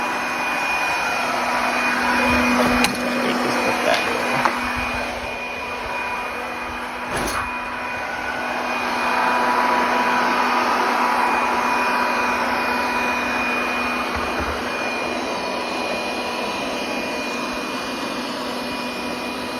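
OKP K8 robot vacuum cleaner running on a floor, a continuous whirring suction hum with faint brushing noise and a few sharp clicks and knocks, steady and close without speech.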